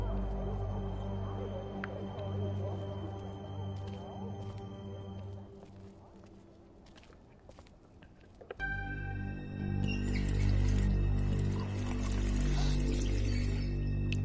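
Tap water pours steadily into a kitchen sink in the video game The Wolf Among Us, a continuous rushing stream over a low droning hum that swells louder and brighter about halfway through.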